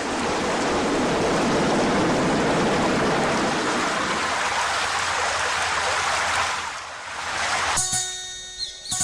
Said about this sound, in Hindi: मूसलाधार बारिश की आवाज अब समुद्र की तरह गरजने लगी थी।